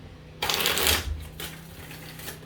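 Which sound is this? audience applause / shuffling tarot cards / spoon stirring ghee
shuffling tarot cards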